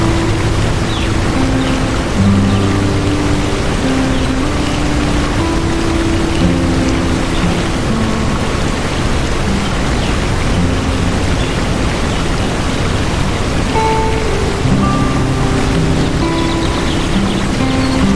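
River water rushes near the Curug Ciparai waterfall in a forest, a loud, steady broadband roar that fills the whole stretch without any talking.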